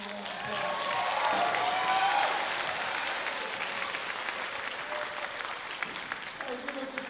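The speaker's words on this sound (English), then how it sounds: "Let's give them a round of applause." A high school spring band concert audience gives a round of applause, a broad, moderately loud wash of clapping with a brief voice and a few sustained tones near the start.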